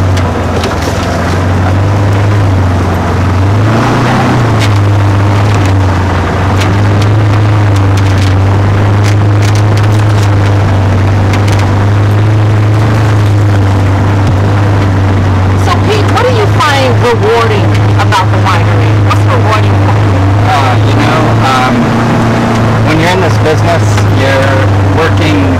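A Jeep on an ATV tour rolls over bumpy vineyard ground at a winery in Lincoln, its engine droning loud and steady with rattles and jolts while people talk over it.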